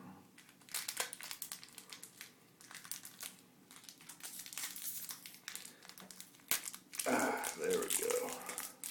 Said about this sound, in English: I had to open that cellophane package